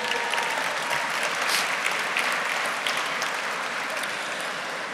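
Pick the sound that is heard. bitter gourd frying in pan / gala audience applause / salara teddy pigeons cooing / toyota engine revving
gala audience applause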